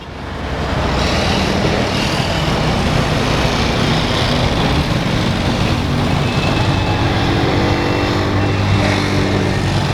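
A car engine runs steadily and fairly close as the vehicle leaves a stop sign and pulls out onto a main road, a continuous motor rumble with road noise and no talking.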